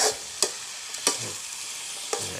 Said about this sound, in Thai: ผัดไปเรื่อยๆ แล้วก็เราก็ปรุงใส่ทุกอย่างแหละ